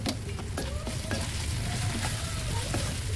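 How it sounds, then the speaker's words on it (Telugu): Onions frying in oil in a pan for a chicken fry, a steady dense sizzle throughout with occasional light stirring clicks, close and fairly loud with no talking. "ఇట్లా ఉల్లిగడ్డ మొత్తం గోల్డ్ కలర్ వచ్చేంత వరకు ఇలా ఏంపుకుంటే"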